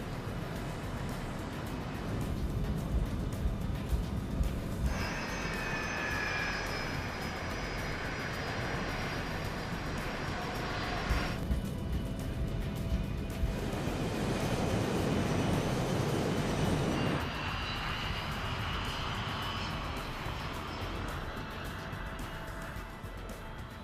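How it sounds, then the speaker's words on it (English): A British-built BAE 146 commuter jet with quiet turbofan engines on a short-haul flight, heard as a steady broadband roar with shifting whining tones, continuous and fairly loud throughout. "they're piloting a British-built BAE 146 commuter jet. With quiet turbofan engines"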